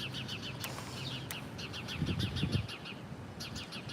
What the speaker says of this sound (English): I don't want to scare the bird